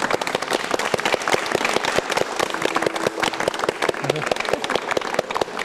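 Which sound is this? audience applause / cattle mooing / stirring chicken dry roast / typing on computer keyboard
audience applause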